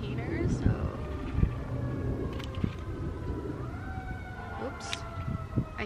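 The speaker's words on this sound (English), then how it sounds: "I hear sirens. I hear a fire truck." A fire truck siren wails at a distance with slowly rising and falling tones, heard faintly beneath outdoor garden ambience with a few sharp knocks and rustles.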